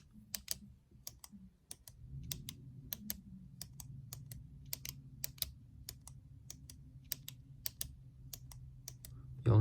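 A Sharpie S-gel metal-barrel gel pen is clicked repeatedly near the microphone, giving sharp, evenly spaced clicks over a low background hum.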